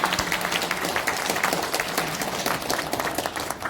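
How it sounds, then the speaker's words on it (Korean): Audience applause at a Geumcheon-gu Saemaul leaders' evaluation ceremony, a steady dense wash of many hands clapping throughout, loud and sustained without a break. "총장님께 다시 한번 큰 박수 보내주시기 바랍니다."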